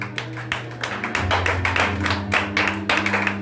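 A church congregation applauds the Lord with steady rhythmic clapping, sharp hand claps repeating at an even pace over a sustained low hum of music or organ tones.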